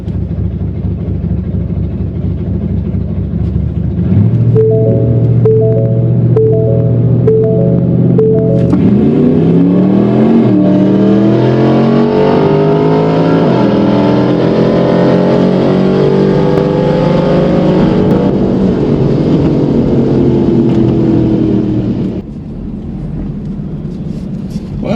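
Firebird drag car on a drag strip, a loud, close engine that idles with a steady drone, then winds up hard into a long rising acceleration roar that cuts off and drops back toward the end.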